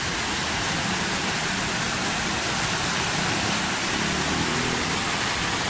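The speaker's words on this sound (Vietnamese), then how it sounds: "Nước chảy các bạn thấy đẹp không?" Artificial pumped waterfall in a Korean city, water pouring down in a dense, steady broadband rush that stays loud and unbroken throughout, with no voices over it.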